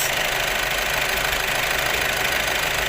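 A car engine runs steadily throughout an engine oil flush, with a constant mid-range rumble and a slight knocking texture. It is close and loud, with no voices.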